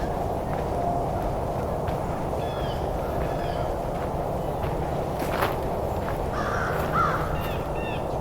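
A crow caws a few times at a distance over a constant roar of traffic from the 401 highway, with other faint bird calls scattered through.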